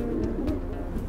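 Deep, soft cooing of a big, long-winged racing pigeon bred as a strong flyer, a couple of low murmured calls close by over a steady background hum.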